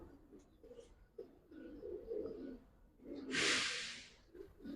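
Low, soft coos from Giribaz pigeons repeat through the clip, with a brief hissing burst partway through, close by and moderately quiet.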